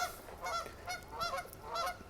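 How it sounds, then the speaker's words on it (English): Several loud goose honks in short bursts, repeating roughly every half second, fairly close, with no talking. "I wonder if y'all can hear those geese kind of honking over there."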